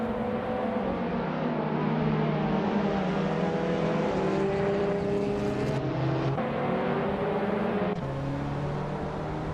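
Several race cars roar continuously at the start of a race, engines droning and shifting pitch as they pass, loud and steady with no talk.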